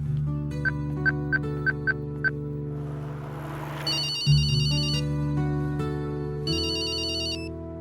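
A telephone rings in a Telugu movie scene: a series of short repeated electronic ringtone chirps, then sustained higher ringing tones over a background music bed, with no talking.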